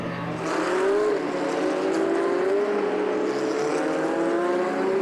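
A GT race car passes on the Donington Park GP circuit, its engine a loud sustained drone with a slowly rising and falling pitch over about five seconds, set against steady track ambience.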